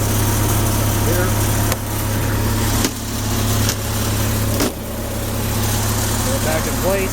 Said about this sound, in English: Generator's been running here.